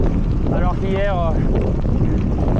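Strong wind roars across the microphone while cycling on a bikepacking trip, a loud continuous buffeting rush throughout as someone speaks briefly over it.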